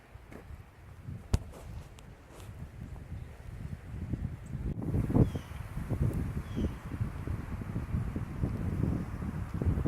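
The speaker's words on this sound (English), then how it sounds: "I don't know if you can hear that noise of the wind. Kind of like a sort of shushing noise because of these." Wind rushes through tall pine trees outdoors beside an abandoned hardware building, a continuous low, rustling roar that slowly grows louder, with faint gusting noise on the microphone.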